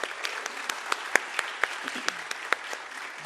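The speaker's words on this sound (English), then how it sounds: "Let us give her a big round of applause." A small audience at a Bharatanatyam Arangetram dance performance claps in sparse, distinct individual hand claps, close and fairly quiet, with no talk.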